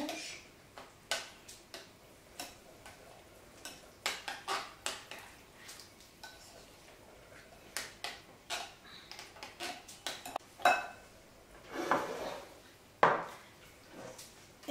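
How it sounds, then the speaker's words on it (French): Parmesan being stirred in a salad bowl, heard as sparse, faint clicks and light scraping taps of a utensil against the bowl, irregular and close, with no talking. "Dans un saladier, je vais mettre 80 g de parmesan. Je mélange."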